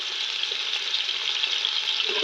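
Two finely chopped medium onions frying in well-heated oil, a steady close hiss and sizzle with no talk.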